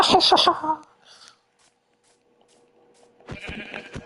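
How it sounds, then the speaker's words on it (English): Two bleats of a sheep in a video game, one at the start and another near the end, separated by a quiet stretch with a faint hum. "There's a sheep up there."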